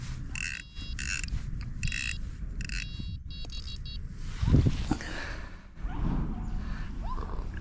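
A fishing reel's drag ratchet clicks in several short rapid bursts as the drag is backed off while dead baiting for pike outdoors, followed by handling scrapes and a brief thump.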